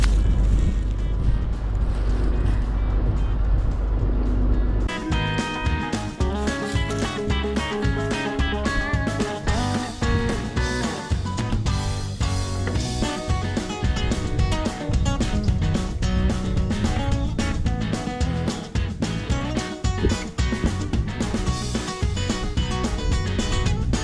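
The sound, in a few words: John Deere 7520 tractor engine running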